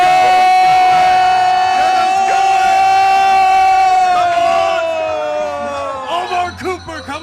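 Jets fans at an NFL draft watch party roaring as one sustained, chanting crowd yell, loud and close, breaking into scattered shouts and whoops toward the end.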